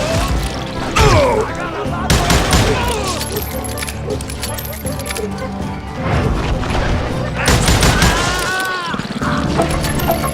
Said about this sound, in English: I found myself in the middle of another shootout entirely.